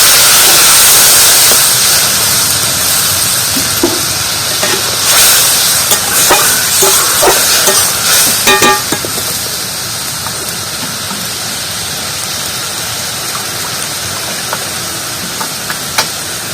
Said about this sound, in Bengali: কিছুটা পরিমাণে জল দিয়ে দিচ্ছি।